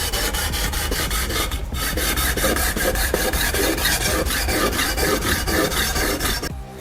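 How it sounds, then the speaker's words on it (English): A knife blade is rubbed back and forth over wet P600 grit sandpaper, making a continuous gritty rasping scrape in even strokes, close up, that stops abruptly near the end. "Now I'll start sharpening, beginning with the P600 grit."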